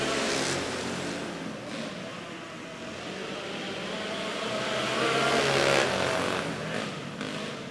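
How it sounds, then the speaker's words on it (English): Go-karts racing on an indoor track at Emma Indoor Raceway during a points race, engines droning and rising in pitch as the pack accelerates, a steady loud blend of motors with no talking. "There they go, all 3 karts now to the top side."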